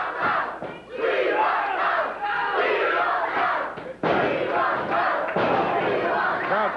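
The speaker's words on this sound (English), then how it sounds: "Crowd chanting, "We won Lawler."" A loud wrestling arena crowd chants in unison in rhythmic waves at a 1992 USWA event, a thud breaking in midway before the chanting resumes.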